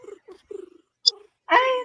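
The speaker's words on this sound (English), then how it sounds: "Ay, ang cute ng sound ng cat." Cat meowing: a single drawn-out, clear meow at the end, following a few soft, low sounds and a brief click.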